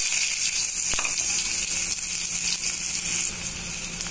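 Chopped onion frying in hot oil with cumin seeds in a wok, a loud steady sizzle and hiss running throughout, with a brief clink near the start.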